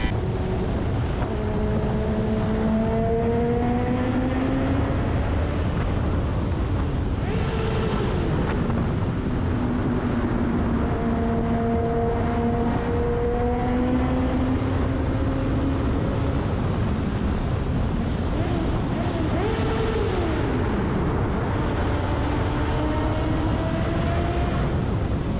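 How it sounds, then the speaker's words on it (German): A motorcycle speeds along the Autobahn, heard from the pillion seat as a constant roar of wind buffeting mixed with engine whine that rises and falls as the rider shifts through the revs. "Und ich bin letztens Motorrad gefahren, also als Sozi. Und da sind wir auf der Autobahn gefahren."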